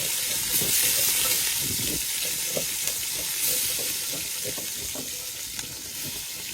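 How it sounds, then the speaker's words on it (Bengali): Fish pieces fry in hot oil in a pot, giving a loud, dense, continuous sizzle and hiss with small pops throughout, close and with no talking. "পর্যাপ্ত গরম হলেই আমরা একটা একটা করে মাছ হাঁড়ির মধ্যে দিতে পারবো।"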